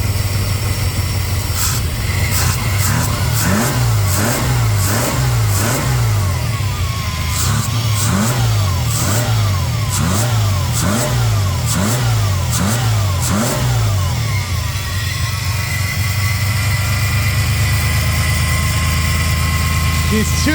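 A car engine that has sat unused for a while runs close by and is revved repeatedly in a steady rhythm of rising and falling pulls, then settles toward a rough idle.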